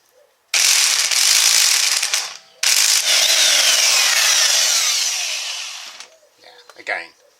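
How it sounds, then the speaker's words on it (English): A large Clark impact wrench runs in two loud, close bursts, the first about two seconds and the second longer, winding down before a brief voice is heard at the end. "let's try the Clark. This is a huge beast of a machine."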